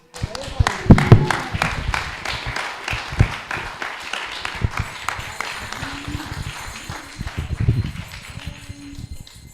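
Round of applause at an ISKCON temple gathering honoring Guru Prabhu, with irregular, close clapping and thumps, voices talking beneath it, and a sustained tone entering partway through.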